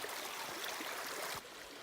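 A babbling mountain brook beside the Skyline trail in Jasper National Park gives a steady, close rush of flowing water, with a slight drop in level near the end and no talking.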